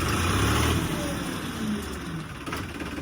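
A tractor engine idles nearby with a low, rough rumble that eases slightly after the first second, steady and moderately quiet.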